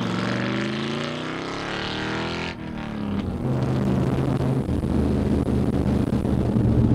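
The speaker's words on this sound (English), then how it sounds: "it was finally time to take the heart transplant Corvette for a spin" A Chevrolet C3 Corvette with an LS V8 swap, freer-flowing mufflers and a six-speed manual drives along with a steady, loud engine drone. The exhaust note shifts about two and a half seconds in, then settles into a rougher, fuller rumble.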